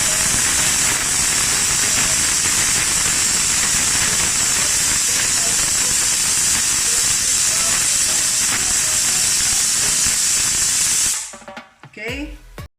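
A pressure cooker cooking beef bulalo lets out a loud, steady, close steam hiss for about eleven seconds, then it cuts off into a few faint clinks and quiet sounds.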